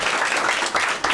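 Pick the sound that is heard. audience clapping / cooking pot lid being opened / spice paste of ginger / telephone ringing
audience clapping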